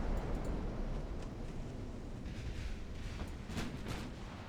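Booming 8-inch and 5-inch naval gunfire in the warship game Ultimate Admiral Dreadnoughts, a continuous heavy rumble with several sharper blasts breaking through, loud and close, with no talk.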